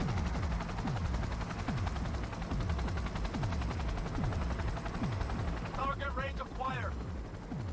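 Rapid bursts of machine gun fire from the Cyberpunk 2077 video game repeat steadily at close, loud range, with a short electronic chirping tone near the end.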